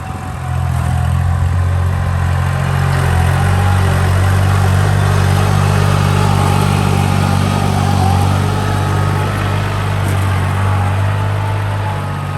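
A 2011 Kubota L3608 tractor with a 36-horsepower three-cylinder diesel engine and 2,000 working hours runs steadily nearby, a loud, constant low throbbing hum with no pauses or revving.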